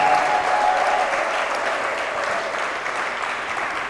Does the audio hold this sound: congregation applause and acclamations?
yes